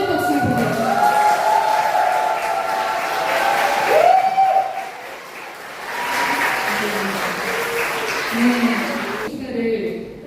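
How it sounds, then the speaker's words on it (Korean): Wedding guests clap at a church-style wedding ceremony, a moderate burst of applause mixed with voices and some music, rising and falling over about ten seconds before cutting off. "여러분 부러움의 박수를 보내주세요."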